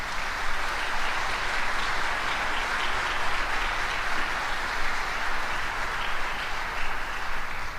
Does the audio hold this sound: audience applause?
yes